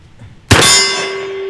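A shotgun wax slug strikes a steel gong with a sudden loud metallic clang, and the gong keeps ringing with a long, slowly fading sustained tone.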